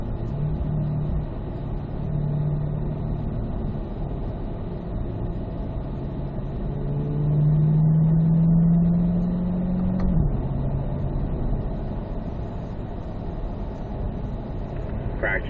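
A Chevrolet C8 Corvette on a race track during a performance driving school session, its engine a steady low drone that swells into a rising rev near the middle before settling back, with no talk over it.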